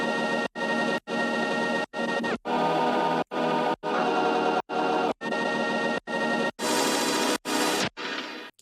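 A chopped synth sample from an electronic track's pre-intro, repeating in about a dozen dense, bright bursts with sharp cuts between them, loud and alone.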